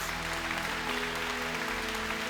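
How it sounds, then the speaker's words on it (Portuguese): A church congregation claps steadily during a sermon, a sustained wash of applause over a low musical hum. "Aleluia, aplauda mesmo, Jesus."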